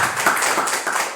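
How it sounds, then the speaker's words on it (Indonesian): Applause from a crowd at a Sundanese stage performance, a dense, steady patter of many hands clapping close and fairly loud throughout with no voices over it. "Mangno tepuk tangan saya"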